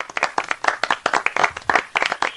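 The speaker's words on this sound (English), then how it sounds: "Please give our 2020 Year of the Nurse Award honorable mentions a virtual round of applause." Close, crisp hand clapping from just a few people for nurse award honorees at a virtual gala, brisk and uneven over a couple of seconds.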